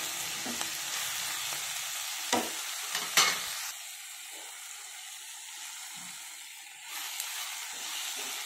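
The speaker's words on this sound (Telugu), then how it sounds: "ఇది బాగా ఫ్రై అవ్వాలి. మెంతికూర వేగుతుంటే భలే స్మెల్ వస్తుంది." Fenugreek leaves fry in a pan for a brinjal and green peas curry, giving a steady close sizzle with a few sharp stirring clatters from a utensil partway through.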